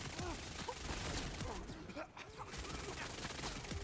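Rapid SMG gunfire in Borderlands 4, a dense continuous fusillade of shots running throughout with game effects, loud and close.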